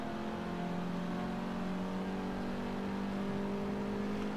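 Race car engine in Forza Motorsport 7 holding a steady, droning rev with a whirring tone, continuous and fairly close, no talking.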